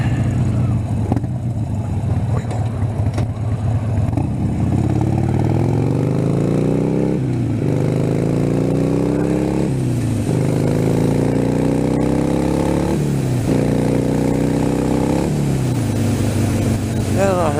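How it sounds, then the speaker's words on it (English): Fuel-injected motorcycle engine running on a ride, loud and steady throughout, with repeated rising revs as it accelerates through the gears. "Run out on the bike to clean out the injectors and everything."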